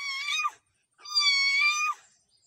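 A human voice imitates a cat meowing, two tonal meows close to the mic, a short one then a longer drawn-out one after a brief pause, with no other sound around them.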